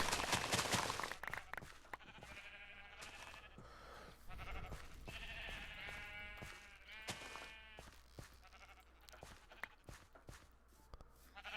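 Sheep in the Minecraft video game bleat repeatedly, close and fairly loud, with a series of wavering bleats and a few clicks between them.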